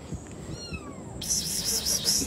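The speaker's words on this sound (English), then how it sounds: "I thought I heard meowing" A cat meows with rising and falling pitch, close and fairly loud, then a brighter repeated tonal calling follows in a steady run of bursts.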